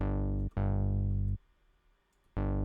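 A deep synth bass note sounds three times, each with a bright attack that settles to a lower sustained level before cutting off, with short gaps between.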